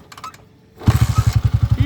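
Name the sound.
200cc converted motorcycle engine starting and running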